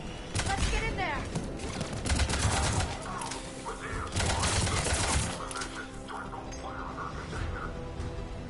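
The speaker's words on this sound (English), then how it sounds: "They're under fire!" Firefight in Mass Effect 3 as Cerberus troops attack at a checkpoint, with dense bursts of rapid gunfire and impacts that swell and fade across the scene, partly layered with game voices talking.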